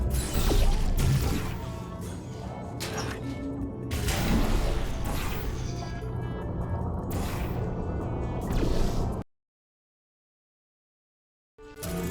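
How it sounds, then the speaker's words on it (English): A trap elevator in the Portal Stories: Mel video game starts up with dense mechanical clanking, creaks and grinding gears for about nine seconds, then stops dead into silence before a faint return. "Activating trap elevator."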